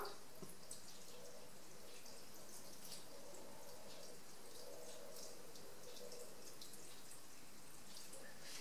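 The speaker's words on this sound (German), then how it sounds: "Weiter geht's mit 300 Gramm Wasser." 300 grams of water poured into a Thermomix bowl while making goulash soup, a soft, steady trickle and splash that stays faint and continuous throughout.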